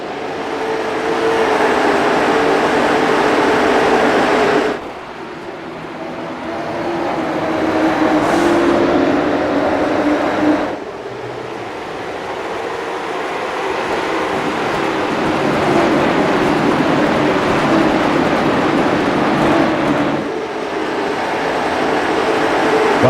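Late model stock cars racing around the short oval at Martinsville Speedway make a continuous, loud engine roar that surges and dips as the pack passes by, with no talking.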